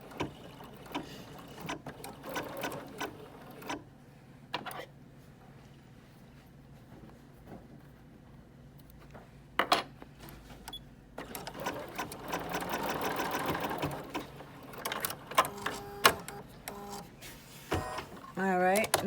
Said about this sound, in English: I'm going to set it right like that, and it's going to do a stitching line.